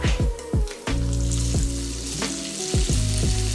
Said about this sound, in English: it started sizzling right whenever I put it in the pan